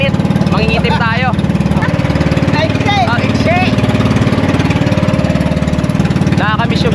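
A fishing boat engine chugs steadily and loudly at sea, a constant mid-pitched mechanical drone throughout, while a few faint whistles or calls rise briefly above it.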